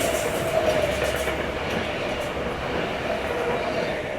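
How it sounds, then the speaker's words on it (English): An 8-car V-set train, NSW TrainLink, rolls steadily past a station platform at Koolewong, a continuous loud rumble of wheels and carriages with a faint tonal whine running through it. "We have an 8-car VSET passing platform number 2 for a Hamilton Newcastle service."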